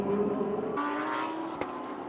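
Lamborghini and Aston Martin GT race cars lapping Fuji circuit: fairly faint, distant engine drone that shifts in pitch as the cars pass, with a brief sharp click near the end.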